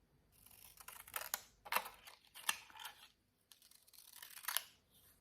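A pair of scissors snaps and slices in several quick, crisp cuts with short pauses between them, close and fairly quiet, with no talking.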